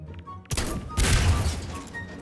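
Loud booming blasts in Garry's Mod, one sharp burst followed by a heavier rumbling explosion that rolls on, with a faint voice nearby.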